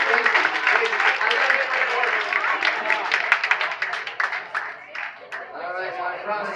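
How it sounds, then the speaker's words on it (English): Round of applause from an audience at a Chamber of Commerce appreciation dinner, dense clapping filling the room and thinning toward the end, with voices mixed in. "Give them a round of applause."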